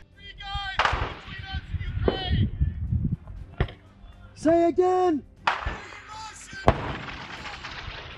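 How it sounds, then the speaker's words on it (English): Scattered sharp gunshots crack amid distant firing in a trench firefight with Russian troops while radio voices talk, with a few loud isolated bangs between bursts of speech. "They exchange gunfire. It's a firefight for a little while here."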